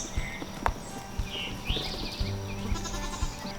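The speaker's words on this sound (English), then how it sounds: "welcome to our goat pen" Goats in a homestead pen bleat in short, scattered calls among thumps and clattering hoof-like knocks, fairly close, with no talk over them.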